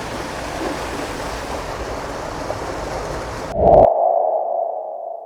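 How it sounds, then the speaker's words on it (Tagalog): Water rushing along an irrigation canal during an NIA UPRIIS Division V water release in Zone 2: a steady, broadband wash for about three and a half seconds, then an abrupt cut to a quieter low hum. "may dumadaloy ng tubig"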